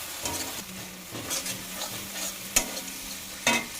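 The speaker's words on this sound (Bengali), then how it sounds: "এবার মশলাটা ভাজা কমপ্লিট হয়েছে।" Ground garam masala sizzles in a hot pan as a spoon stirs it, with a soft, continuous frying hiss and a few sharp scrapes and clinks of metal against the pan.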